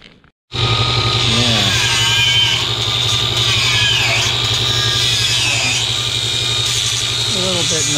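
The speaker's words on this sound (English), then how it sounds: "I'm gonna get my ear protection and cut these screw heads off" A power tool cuts the screw heads off a CJ5 Jeep body, starting abruptly after a brief quiet moment and then running as a loud, continuous, steady whine with a low hum beneath it for the rest of the stretch.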